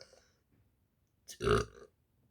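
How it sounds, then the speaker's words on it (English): A single loud, close burp erupts after a near-silent stretch, rumbling for about half a second, with no talking around it. "Why am I burping so much?"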